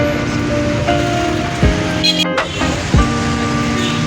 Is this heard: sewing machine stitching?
no